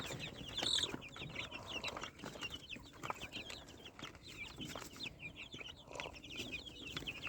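Vaccinated Fayoumi chicks cheep continuously in a busy, high-pitched chorus over low background rustling, fairly close and steady throughout.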